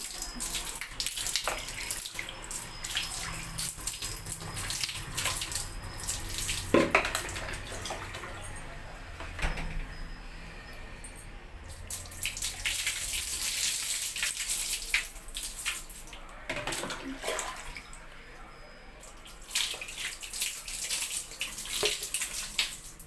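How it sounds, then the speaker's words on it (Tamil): Running water from a tap rinses out a dirty pipe, a continuous splashing gush that swells and fades as the stream shifts, fairly close, with brief quieter gaps. "நெக்ஸ்ட்டு தண்ணி விட்டு கழுவி விட்டு காமிக்கிறேன் பாருங்கள்."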